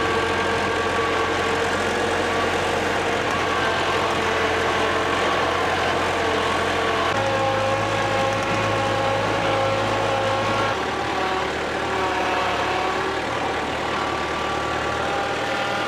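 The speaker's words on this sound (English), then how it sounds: "let's do some little four-wheel drive tractor through the mud back up to the shed." A small four-wheel drive tractor engine on a tropical farm runs steadily with a low droning hum that shifts pitch twice as the revs change, loud and close with no talk over it.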